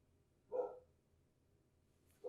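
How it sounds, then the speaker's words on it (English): A dog barks twice in a quiet room, one short bark, a pause, then another, both at moderate distance. "So you might hear a dog."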